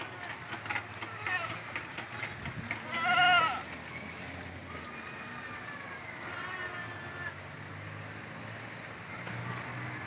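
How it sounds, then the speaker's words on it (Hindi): A herd of around forty goats for sale, with one clear bleat in the middle and fainter calls later, heard under outdoor background noise and someone talking. "ये देखिए पूरे के पूरे 40 बकरे हैं"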